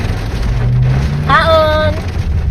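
Steady rain falls on a surface with a dense hiss that fills the short clip, and a brief tonal sound cuts through midway.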